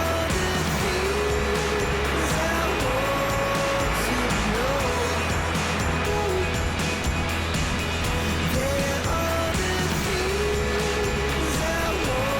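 A car drives along a road toward a coastal lighthouse area, heard as a steady loud engine and road drone from inside the vehicle that continues without break throughout.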